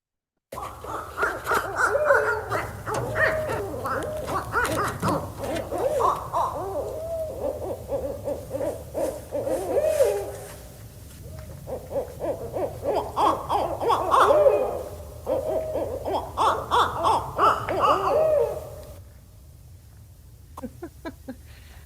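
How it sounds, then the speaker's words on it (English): Alberta owls hoot back and forth in a lively duet, rising into wild, wavering caterwauling calls, loud and close, with brief pauses between bursts. "they hoot back and forth and they start singing a duet, and then they do this crazy caterwaul thing"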